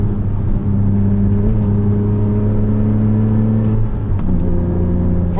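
2006 Porsche Cayman S mid-engine coupe accelerating with steady, loud engine drone and clear harmonic tones, a brief dip and shift near the end as traction control intervenes.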